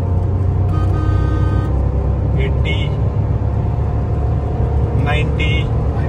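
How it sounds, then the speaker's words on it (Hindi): A Maruti Celerio running on CNG accelerates in third gear, a steady loud engine and road drone heard from inside the cabin while someone talks over it. "अब तीसरे गियर के अंदर है"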